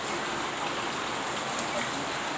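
Heavy rain pours down in a dense, continuous hiss that stays steady and close from start to finish, with no breaks.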